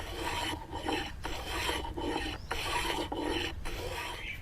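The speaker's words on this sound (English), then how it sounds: "you're doing a slicing cut with the plane, and then that way you'll get a much finer shavings" Hand plane making slicing cuts that shave a wooden spindle stool leg, a steady, close rasping scrape in repeated strokes with brief gaps between them.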